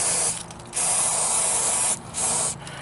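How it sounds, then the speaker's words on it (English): Parts cleaner sprays in three long hissing bursts over fuel injectors during intake manifold work on a Crown Victoria, with short pauses between blasts and no talking. "Just using some parts cleaner."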